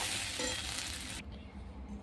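Okra frying in a pan, a bright hissing sizzle that cuts off abruptly partway through, leaving a quiet low background.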